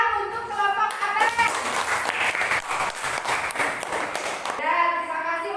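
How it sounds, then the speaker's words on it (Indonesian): A classroom of children clapping together, with lively continuous applause from many small hands and excited young voices mixed in, in a fairly close indoor space. "Tepuk tangan untuk kelompok abang."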